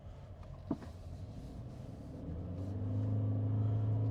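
A Toyota Corolla Cross Hybrid Luxury Edition accelerates gently from the cabin as its engine starts up, and a steady low drone and hum build over the last second or two.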